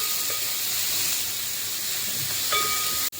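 Onions with salt sautéing in a pan for masala dosa, a steady close sizzle and hiss running throughout, with a brief clatter near the end.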